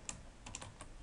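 Several quick, light keystrokes on a computer keyboard, close and faint, with no talking.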